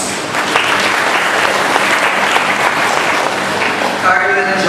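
Wedding guests applauding Carlo and Joan at their church ceremony, dense sustained clapping from a crowd filling the whole stretch, fairly loud and close, with a voice starting near the end.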